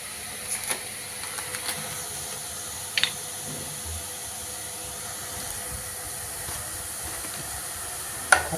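Onion sautés in Amul butter in a pan, giving a faint continuous sizzle and hiss with a few soft clinks of stirring, quiet and steady with no talk.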